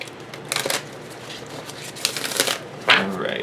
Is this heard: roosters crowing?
no